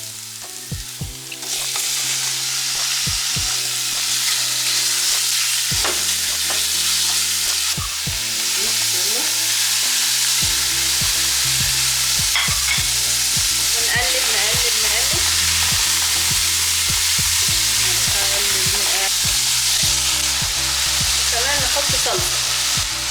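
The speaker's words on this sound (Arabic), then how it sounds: "ادي يا جماعه البصل اتشوح وابتدى ياخد اللون الذهبي" Chopped onions sizzle steadily in a pan while they sauté until golden. The hiss is loud and continuous, with scattered clinks and scrapes of stirring throughout and no one talking.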